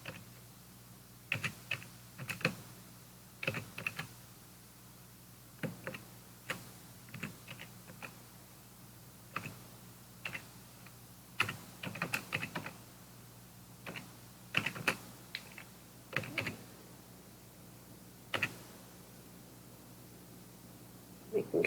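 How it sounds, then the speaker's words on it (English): Keys clatter on a computer keyboard in short, irregular bursts of soft clicks separated by pauses, quiet and nearby in a still room. "I'm just going to go ahead and type the rest of those"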